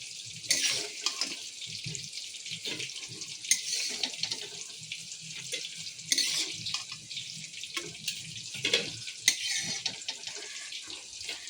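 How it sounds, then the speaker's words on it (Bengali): Cut potatoes frying in oil in a kadai give off a steady, fairly quiet hiss of sizzling, with occasional soft clinks and stirring noises and no talk. "তাহলে দেখো আমার কি সুন্দর এই যে ভাজা হয়ে গেছে। এগুলো আমি ভেজে নিয়েছি।"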